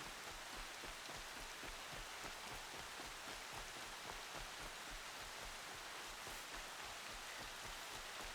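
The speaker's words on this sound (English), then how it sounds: "No, it's raining. That's so cool." Steady rain falls throughout a Horizon Zero Dawn game scene, a dense even hiss of drops on surfaces with no voices, holding at a constant moderate level from start to finish.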